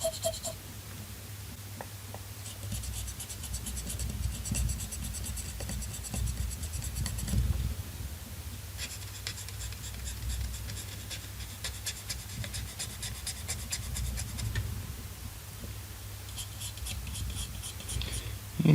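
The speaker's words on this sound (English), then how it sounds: "Now we'll take the fiberglass pencil here and we'll just kind of clean these traces up a bit here." A fiberglass pencil scrubs the copper traces of a Nintendo 64 circuit board in bursts of fine, scratchy rubbing, close and fairly quiet, pausing briefly between passes.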